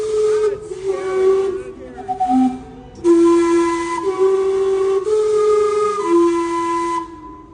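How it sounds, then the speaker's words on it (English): The Gastown steam clock in Vancouver, the world's first powered steam clock, sounds its steam whistles: loud, sustained chords in several held notes with short breaks between them, heard alone over a faint hiss of steam. "the Gastown steam clock, which is the world's first powered steam clock, and it whistles every 15 minutes"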